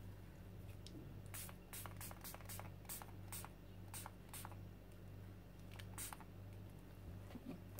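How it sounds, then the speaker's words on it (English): Several short hissing bursts of a spray bottle misting a mixed-media art journal page, irregularly spaced, close by over a steady low hum. "Maybe if I'll spray it a little bit."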